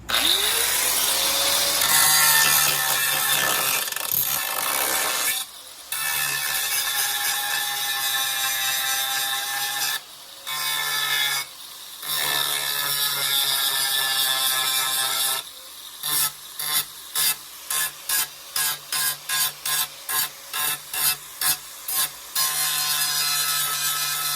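A power tool cuts through a used part before grinding, a loud continuous whining cut that pauses briefly, then breaks into a rapid series of short on-off bursts near the end.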